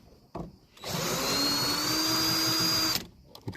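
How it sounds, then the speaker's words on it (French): Cordless screwdriver unscrewing the screws of a Dacia Spring exterior mirror housing: a steady close whirring motor run of about two seconds, with brief clicks and handling noises before and after. "je m'excuse pour le bruit de la visseuse"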